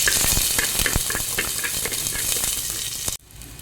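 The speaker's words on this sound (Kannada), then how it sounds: "ಇವಾಗ ಚೆನ್ನಾಗಿ ಫ್ರೈ ಮಾಡಬೇಕಿದು." Sliced onion, curry leaves and mustard seeds fry in hot oil, a loud close sizzle with crackles and stirring clatter that suddenly drops to a quieter hiss near the end.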